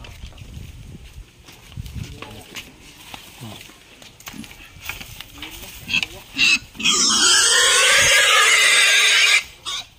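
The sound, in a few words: pigs grunting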